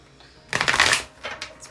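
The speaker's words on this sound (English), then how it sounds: "Just do 2 shuffles." Tarot cards riffle-shuffled up close in a burst of crisp, papery flutter lasting about half a second, followed by a couple of softer card taps and slides.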